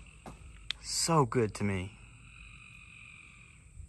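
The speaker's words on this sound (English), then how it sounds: "Come on, frogs, be quiet." Frogs croak outdoors beside a Silverado, a steady chorus of high-pitched calls running under a man's short spoken remark, continuous and moderately close throughout.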